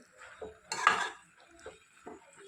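A utensil scrapes and clatters in a pan while moong dal and spinach fry is stirred, in a few uneven strokes with one louder sweep, close and otherwise quiet.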